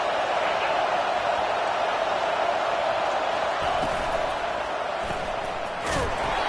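Stadium crowd in an NCAA football video game roars as a dense, continuous wash of noise, with a couple of sharp thumps toward the end.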